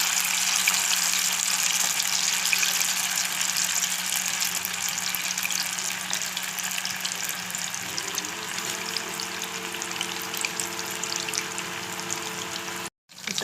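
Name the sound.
chicken 65 pieces frying in oil on low flame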